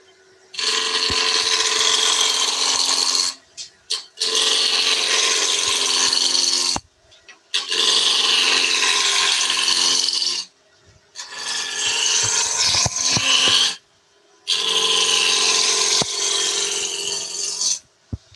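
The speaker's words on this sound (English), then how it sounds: "Fire up the lathe, get a decent amount of speed running through it, and then start the cuts." A wood lathe spins while a turning tool cuts the wood, making loud rasping, scraping bursts that run several seconds each. Five long cuts are separated by short near-silent pauses, close-up with no talking.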